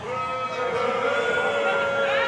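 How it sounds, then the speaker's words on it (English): A wrestling arena crowd booing at a WWE Survivor Series event, a sustained, droning wall of jeers from many voices that swells slightly toward the end. "They're booing because they've not kissed yet."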